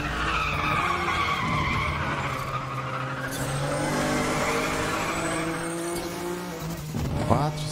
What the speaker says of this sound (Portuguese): vou ter que fazer um drift monstro aqui agora